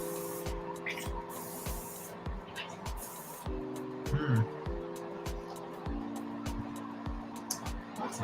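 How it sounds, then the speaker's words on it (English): A malfunctioning airbrush sputters and hisses in steady irregular bursts, a sustained tonal hum underneath with repeated sharp ticks, close and moderately loud, with no talking. "Right off the bat, I can tell something's wrong with my airbrush."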